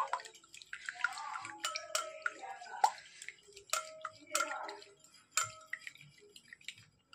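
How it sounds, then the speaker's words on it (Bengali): Egg being beaten by hand for plum cake batter, with light irregular clicks and taps of the utensil against the bowl, faint and close, no one speaking. "তো এই ডিমটাকে খুব ভালো করে মিক্স করে নেব।"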